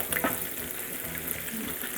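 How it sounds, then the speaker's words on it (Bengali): Salmon fries in oil over medium heat, a soft, steady sizzling hiss heard close but fairly quiet, with a few faint clinks early on. "আমি ফিশটাকে ভাজবো অবশ্যই মিডিয়াম আছে"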